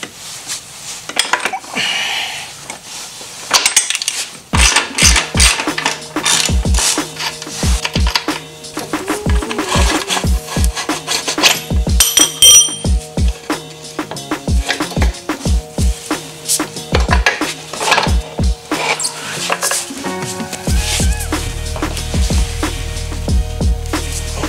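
Metal tools clink and rattle while a motorcycle rear wheel comes off for a chain and sprocket change, with irregular close taps and clatter throughout and a steady low hum entering near the end.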